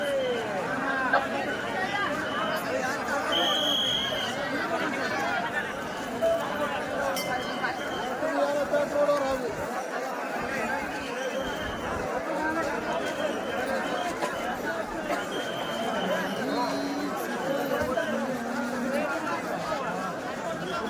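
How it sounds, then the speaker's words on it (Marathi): Huge crowd of pilgrims at Ashadhi Wari in Pandharpur, a constant dense babble of many voices with occasional clinks and shuffling, moderately loud and continuous throughout. "आपण पाहू शकतो किती गर्दी आहे लाखोच्या संख्येनं भाविक येथे जमा झालेले आहेत"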